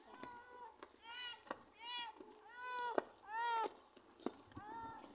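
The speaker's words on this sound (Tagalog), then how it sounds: "Ayan yung pusa." A cat gives a string of short, rising meows, about half a dozen close together, with light tapping and thumps between them; a person speaks faintly nearby.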